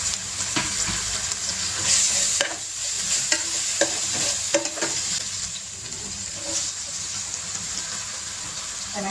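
Mutton curry masala with tomatoes sizzles and fries steadily in a pan while a spoon stirs and scrapes through it, a loud, close, continuous crackle broken by irregular clinks and scrapes, with no talking.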